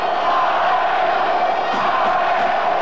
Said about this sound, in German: Und hören Sie dieses Publikum, meine Damen und Herren